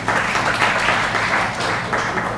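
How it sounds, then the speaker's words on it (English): An audience at the grand finale of a student debate competition claps in a loud, sustained burst, many hands blending into a continuous roar of applause. "A big applause again."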